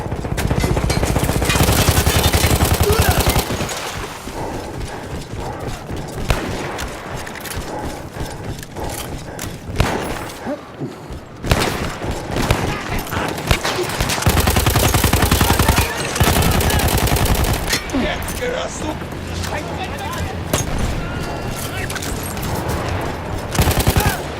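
Rapid machine gun fire from an emplaced gun on the Italian front in Battlefield 1, loud sustained bursts with pauses and clattering mechanisms between them, little speech.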